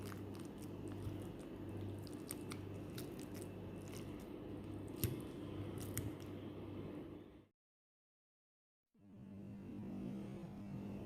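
Ripe honey avocado is mashed for guacamole, producing soft, steady squishing and pressing noises close up. A brief silent gap breaks the sound before the mashing resumes.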